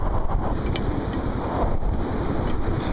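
Strong, steady wind roars and buffets the microphone during a sand storm, heard while riding a motorcycle in Iran; a broad, continuous rushing noise fills the scene with gusty flutter and no voices.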